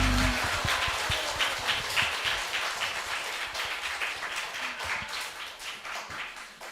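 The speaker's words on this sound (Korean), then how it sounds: "우리의 참 어머님 홀리마다와 함께 영광의 박수" A church congregation at a family worship service applauds with dense, sustained clapping that holds steady and gradually eases off, filling the room without any voices over it.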